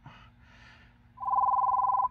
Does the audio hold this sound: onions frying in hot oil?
no